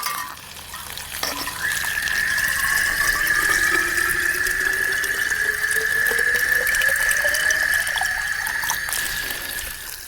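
Well water runs from a tap in a steady, continuous rushing stream with a sustained whistling tone rising underneath, close and fairly loud, with no voices.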